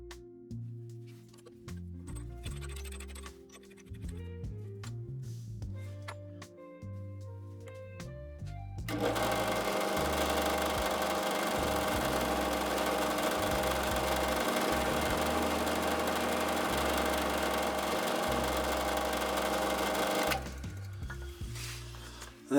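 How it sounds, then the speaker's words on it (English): A 15mm Forstner bit bores into a carved wooden fishing lure body, making a steady, loud, continuous grinding whir that runs unbroken for about eleven seconds and then stops, with music playing before and after. "drill a hole and use the Forstner bit to make a indent for where the eye will actually go"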